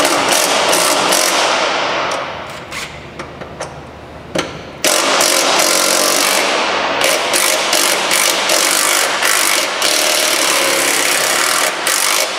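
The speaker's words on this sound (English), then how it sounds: "Using a 16mm, I'm going to loosen and remove these 2 nuts that are holding." A 16mm wrench ratchets as it loosens the stud nuts holding a driveshaft on a Nissan Rogue, giving bursts of close, dense metallic clicking with short pauses and a sharper clunk midway, no talking.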